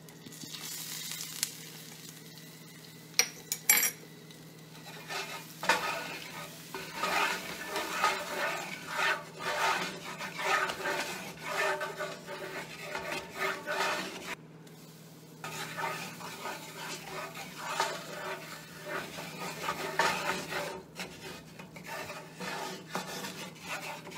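Flour being stirred into a roux for turkey gravy, a steady rasping scrape of a utensil against the pan under a light sizzle, repeated strokes over a long stretch with a few brief pauses and clattering knocks.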